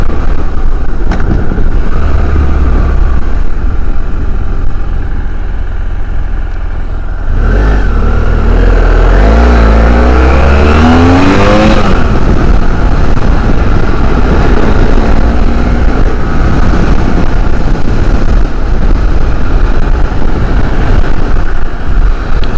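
A BMW F650GS motorcycle rides around town, its single engine droning loud and steady throughout, with a rising revving sweep partway through as it accelerates and shifts.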